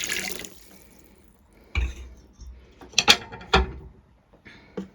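A short burst of running water, then scattered splashes and clinks as hands or a cloth move in a sink.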